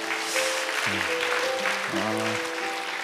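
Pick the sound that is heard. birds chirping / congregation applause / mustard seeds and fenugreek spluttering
congregation applause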